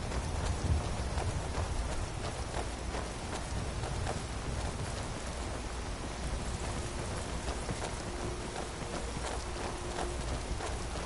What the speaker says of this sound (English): I do like that it's raining,